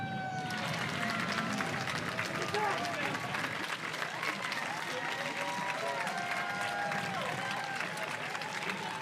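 A large outdoor crowd at a town parade and road race claps and cheers in a continuous wash of applause and shouts, with whistles and calls rising over it for the whole stretch.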